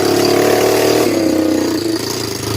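A Honda 300EX ATV runs straight piped with its muffler fallen off, a loud, raw, steady engine rumble close by that dips slightly in pitch near the end.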